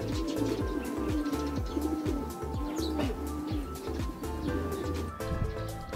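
Racing pigeons at a loft on arrival, giving low repeated coos in a steady rhythmic pulse, with some chirps and wing movement, fairly close and continuous throughout.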